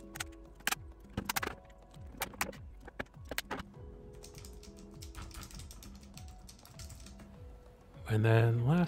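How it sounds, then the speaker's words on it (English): Keycaps pressed onto the switches of a mechanical keyboard make a run of sharp, close clicks and clacks in uneven bursts, with a brief louder whir near the end. "So basically you line up the keycaps and push them in with some pressure."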